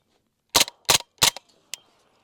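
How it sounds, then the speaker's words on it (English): Integrally suppressed 9mm bolt-action gun firing PMC rounds: three sharp, muffled reports in quick succession, then a fainter metallic click, up close with no talking. "We're gonna try to fire those 3 PMC rounds that didn't fire in the bolt gun and the MP5"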